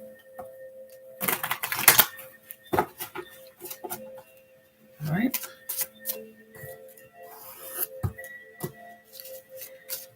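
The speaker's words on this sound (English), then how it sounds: "I'm just going to shuffle these cards a little." Papery flicks and soft riffling clicks of tarot cards being shuffled, coming in uneven bursts with quiet gaps between them, up close.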